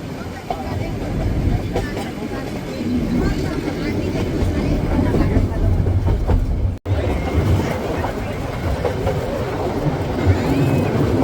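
Nilgiri toy train, the UNESCO heritage mountain railway, running from Coonoor toward Ooty station: a steady close rumble of wheels and carriage noise with faint clatter throughout, and a brief dropout near the middle.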